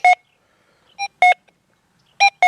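Short electronic beeps from a Deus 2 metal detector with notch on sound in quick pairs as it passes two targets, sharp and tonal with brief silences between, no voices present.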